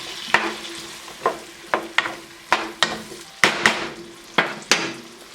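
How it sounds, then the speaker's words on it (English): Vegetables sauté over medium-high heat in a pan, the soft sizzle punctuated by a dozen sharp, irregular clacks of a spoon stirring and scraping against the pan, close and fairly quiet. "these are sauteing"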